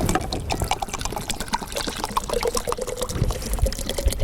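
Water poured over dirt and oil in a stormwater pollution demonstration, a steady close splashing pour that runs continuously with a trickling, gurgling texture and no talk over it.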